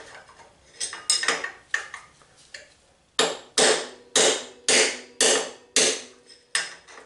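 Metal hammering rings out as steering bearing races are driven out of a Kawasaki Vulcan motorcycle, a steady series of sharp, loud clanging strikes, preceded by lighter scattered taps.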